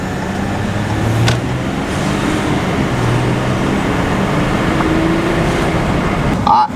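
Cabin sound of a tuned diesel truck driving in Sport Plus 4 mode with level 5 tune, a steady loud engine and road drone with a few faint tonal whines, ending in a brief rattle.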